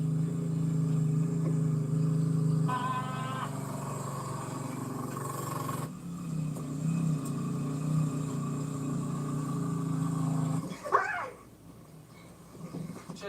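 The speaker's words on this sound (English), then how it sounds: "Should say the four-wheeler is sounding insanely bad." An in-game four-wheeler engine drones and strains steadily at a low pitch, with a brief higher rising whine near the end before the drone drops off.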